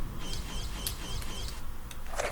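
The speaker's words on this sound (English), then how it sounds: "there is a bird, you can hear it." In a Tomb Raider level game, a parrot gives short, faint chirps and squawks scattered over a quiet ambient room tone.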